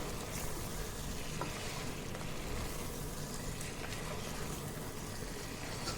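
Goat head curry cooks in a pan with chili powder and green chilies, giving a soft, continuous sizzle and bubbling hiss that stays low and even throughout, with no voices.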